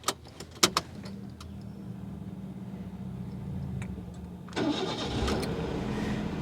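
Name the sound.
Nissan Moco 2007 car engine starting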